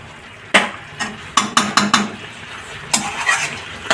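A lid goes onto a pot of mashy, watery vegetable curry with a sharp metallic clank, followed by a run of quick rattling knocks and a few lighter clinks as it settles, close and fairly loud.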